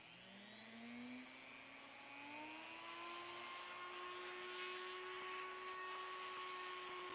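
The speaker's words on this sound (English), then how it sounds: "I'm going to turn the Dremel over a little bit here so I'm facing myself, and I'll just turn it on." A Dremel rotary tool running at about three-quarter speed gives a steady, high whine that rises in pitch as it spins up, then holds an even drone at a moderate distance.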